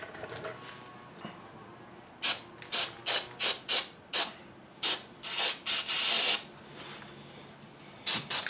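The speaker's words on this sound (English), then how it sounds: "get some brake parts cleaner, spray it in there" Rapid bursts of brake parts cleaner sprayed into the brake assembly of a 2004 GMC Sierra 1500 pickup, a dozen sharp hissing pulses close by, some short and one longer, with quiet gaps between and no talk.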